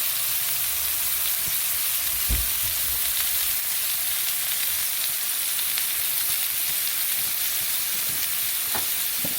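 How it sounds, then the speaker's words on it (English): Burgers frying in rendered bacon fat in a pan, a loud, continuous close sizzle and crackle with a few soft pops, no voices. "when these burgers go in here, they will essentially be going into a pan that now has rendered bacon fat."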